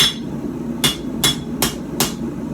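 A very light hammer, under a pound, strikes metal four times in a steady, fairly quick rhythm with short swings, each blow a sharp ringing tap, close and clear, with no talking, during a test of a Mastermyr-style hammer.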